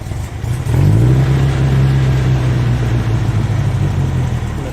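The engine of an old-school custom Volkswagen trike with a racing clutch revs up loud and close, then holds a steady, throaty drone.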